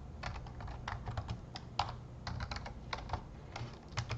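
Quick, light keystrokes on a computer keyboard, close and steady over a low hum, typing a search entry in CAD software, with no voice.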